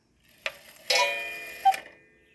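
An antique cuckoo clock's strike side sounding the hour: a few sharp, close chime strikes ring out one after another, each with a lingering metallic decay, alone in a quiet room.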